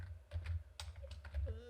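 Fingers type a command on a computer keyboard, a quick, uneven run of close, crisp keystrokes lasting under two seconds.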